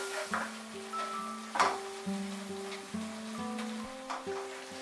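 Masala spice paste for chicken do pyaza fries in a pan over medium heat with a soft, steady sizzle and a few stirring scrapes, faint and close, under a quiet tonal background of music.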